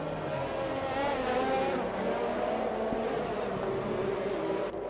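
Race cars in an F1 2021 game at the Azerbaijan circuit roar past with a steady, loud high-pitched engine whine that swells and shifts in pitch, continuous throughout without pauses.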